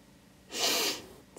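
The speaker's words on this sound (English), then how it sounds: "Sorry, I got the sniffles again." A single short, sharp sniff through the nose, close and fairly quiet, lasting under half a second with no talk.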